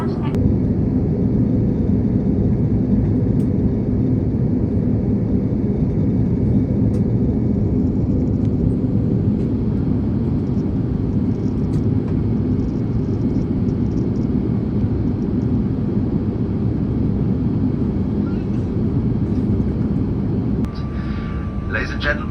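Steady, loud cabin roar inside a Lufthansa airliner on its landing approach through fog with almost no visibility, a continuous deep engine and air rumble that shifts slightly near the end.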